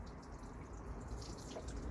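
Coolant water dripping and trickling from a removed thermostat housing on a Mazda MX5 NC, a steady close liquid patter with scattered drips, alone.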